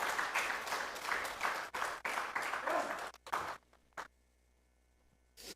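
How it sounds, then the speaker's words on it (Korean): Congregation applauding during a rainy Wednesday church service, a dense burst of clapping that carries for about three seconds, then breaks into a few scattered final claps. "크게 다시 한번 박수해 주시기 바랍니다."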